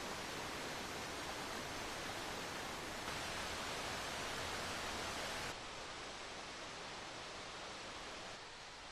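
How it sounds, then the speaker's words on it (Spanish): Waterfalls in a Croatian national park give a dense, unbroken roar of rushing water that stays loud and even throughout, with no voices. "donde no se oye más que el murmullo de las cataratas"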